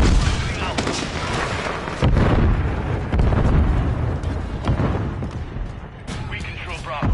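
Stun grenades and gunfire in Call of Duty Modern Warfare III hardcore multiplayer on the Growhouse map, with loud booming blasts and sharp bursts over steady battle noise, mixed with in-game radio voices.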